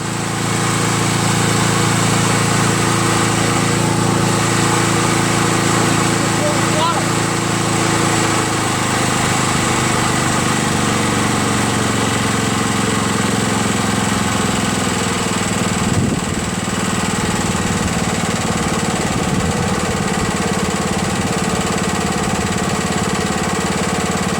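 A Briggs & Stratton Quantum engine on a Craftsman push lawn mower idles steadily and loudly nearby after a valve job and engine swap, with a continuous even putter and a slight dip in tone midway.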